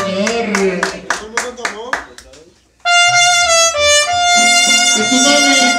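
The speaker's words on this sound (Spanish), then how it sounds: "¡Qué bonito el aplauso, sí, señor!" Rhythmic applause at a serenade: about seven loud, evenly spaced hand claps close by, then abruptly giving way to music with sustained singing.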